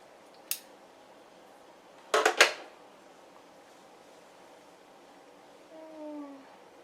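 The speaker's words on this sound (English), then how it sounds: "now I'm going to use zigzag and just cut all the way through here." Zigzag pinking scissors snip through fabric while a pair of shorts is sewn. A couple of quick, close crunching cuts come in the middle of an otherwise quiet room, with a soft scrape of fabric near the end.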